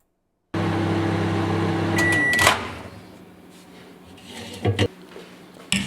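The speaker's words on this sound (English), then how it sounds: "we're going to chuck it in the microwave" A microwave oven heating milk hums steadily, then a beep sounds and the door clicks open, followed by quieter handling noises and a couple of knocks.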